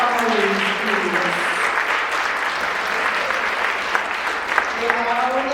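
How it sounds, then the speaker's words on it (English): Audience applauding honorees at a Jamaican Heritage Month event, sustained dense clapping with a few cheers and raised voices mixed in, loud and steady from start to finish. "Uno clap them for all of our honorees, please."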